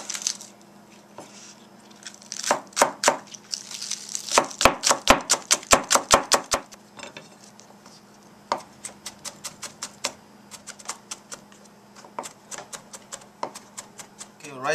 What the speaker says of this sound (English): Now I'm chopping green onions.